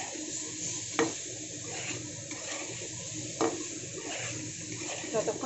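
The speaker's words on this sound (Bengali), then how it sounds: "এখন আলুটাকে আমি বেশ সুন্দর করে ভেজে নেব।" Potato pieces fry in a pan over a medium gas flame, giving a steady soft sizzle with a few sharp clinks and scrapes of stirring, close and moderate in level.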